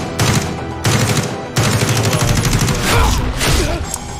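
Assault rifle bursts in Warzone, the Call of Duty battle royale, ring out loud and close in rapid automatic strings, broken by short pauses between several bursts, with faint speech beneath.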